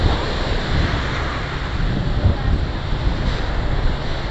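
Steady broadband wash of ocean surf on a beach with gusty wind buffeting the microphone, continuous and fairly loud with no distinct breaking crashes.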